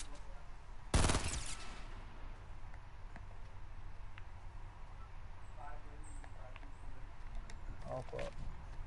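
Gunfire during a video game shootout: one sharp loud shot burst near the start, then a few fainter scattered shots and clicks over a low steady background hum.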